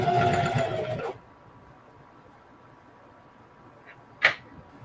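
Sewing machine stitching a blue jean jacket, running in a loud fast burst for about a second, then stopping, followed by a faint quiet stretch and a brief click near the end.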